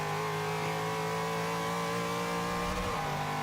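Z06 Corvette engine in Forza 5, set up with shorter, closer-spaced gearing, revving hard at a steady high pitch with a brief dip near the end, loud and continuous with a hint of wheelspin.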